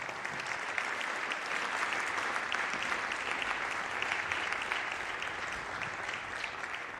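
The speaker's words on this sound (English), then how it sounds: "Let's give them another round of applause" An audience at a high school band concert applauds a percussion ensemble, a dense, continuous wash of many hands clapping that holds steady and fairly soft-sounding for the whole stretch, with no voices on top.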